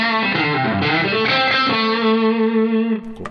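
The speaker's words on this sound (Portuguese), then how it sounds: "Posso modificar um pouco esse reverb, ó, um howl aqui, ó." Electric guitar played through a NUX MG-300 processor with a reverb howl effect, loud sustained distorted notes blooming into a shimmering, swelling wash before cutting off near the end.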